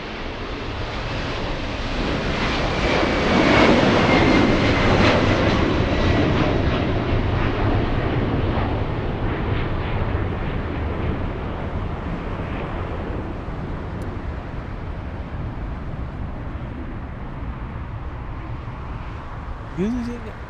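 A fully loaded airliner takes off from runway 25 left at LAX, its engine roar loud and broad, swelling early and then slowly fading into a sustained rumble with wind-like noise over about twenty seconds.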